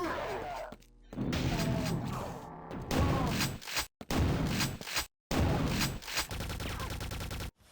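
Weapons fire from the Quake video game, rapid bursts of gunfire and shotgun blasts with mechanical clanks, loud and choppy with short silent gaps between volleys.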